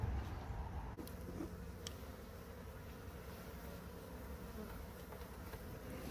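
A steady, dense buzz of many festooning honeybees hums continuously, low and close, with no voices, during a removal from a storage unit.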